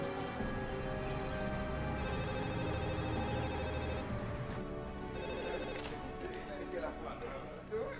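A desk telephone rings repeatedly with steady electronic tones in a police or station office, amid background movement and chatter.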